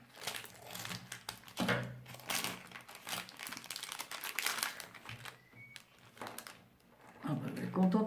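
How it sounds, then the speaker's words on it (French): Scissors snip through paper in faint, irregular crinkling cuts close by. Soft talking runs intermittently over them. "je vais prendre les ciseaux"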